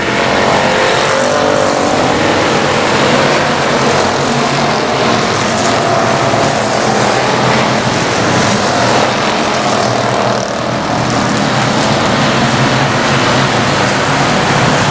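Race cars roar around the oval at I-37 Speedway, a loud continuous engine din with cars passing close in a tight pack throughout.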